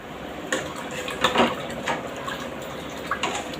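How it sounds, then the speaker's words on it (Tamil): Water splashes and stirs into a thick tamarind curry base with field beans and jackfruit seeds, giving intermittent wet sloshes and light clinks against the pot at close range, with no talking. "அதனால் நான் வாட்டர் மிக்ஸ் பண்ணிக்கிறேன்"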